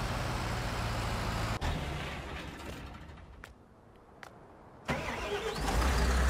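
In Farming Simulator 19, a forestry machine's arm lifts while the machine sits on a Scania 110 truck's lowboy trailer. A steady mechanical engine drone dips and swells, with a few sharp clicks, and no voices.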